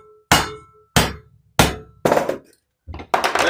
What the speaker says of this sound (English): Tap that wedge in.